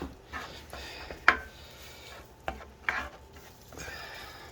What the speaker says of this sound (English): I got to stay on moving it around so the meat doesn't stick to the bottom of the skillet